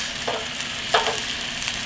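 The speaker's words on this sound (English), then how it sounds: "Now we have some white wine, some garlic, a little salt and pepper in a pan. We're just cooking that down so it makes the sauce" White wine, garlic, salt and pepper simmering and reducing in a pan, a steady close sizzle with a couple of brief stirring scrapes and no talk.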